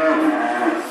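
Dairy cows mooing at a farm at milking time, one loud, close, drawn-out low moo filling the moment.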